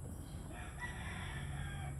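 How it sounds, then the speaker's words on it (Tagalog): Roosters crow in the distance, faint and drawn out over a steady background hum. "Narinig niyo po ang tilaok ng mga manok."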